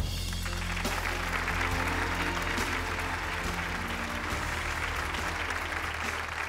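A television studio audience on a Chongqing talk show breaks into steady, full applause, a dense continuous roar of clapping held at even loudness, with music playing underneath.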